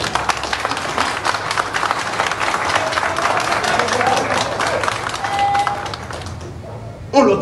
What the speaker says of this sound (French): un gros applaudissement pour l'idée